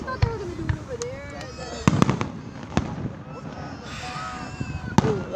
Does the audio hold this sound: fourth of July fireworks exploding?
yes